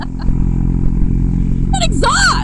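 A motorcycle fitted with a Dr. Jekyll Mr. Hyde valve-controlled exhaust idles and rumbles loudly up close, a steady deep throb under a rider's excited talking.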